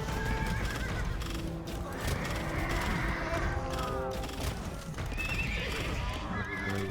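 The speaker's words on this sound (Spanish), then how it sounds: "Enviar mis caballos ahí." Horses neigh repeatedly amid a dense bed of hoofbeats in an Age of Empires II battle, loud and continuous, with whinnies rising over the clatter and faint scattered clanks; no one talks.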